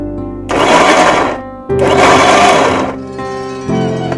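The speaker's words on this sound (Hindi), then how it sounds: "बहुत ही केयर के साथ मिक्सी चलानी होगी" A mixer grinder whirs loudly in two long bursts with a short pause between, then starts a third run on fruit for a protein shake; a high-pitched motor roar with no talking.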